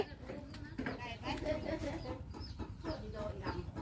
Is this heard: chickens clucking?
yes